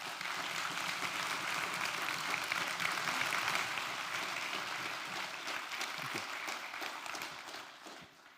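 An audience claps warmly for a speaker at a Veritas Forum event in Eindhoven, a dense and sustained wash of applause that holds steady and then slowly eases off toward the end.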